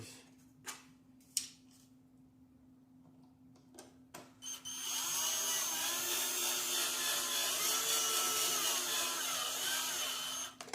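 After a few faint clicks and taps, a power screwdriver whirs steadily as screws are driven into the top skids of a Traxxas Hoss RC truck. The close, sustained motor whine runs for about six seconds.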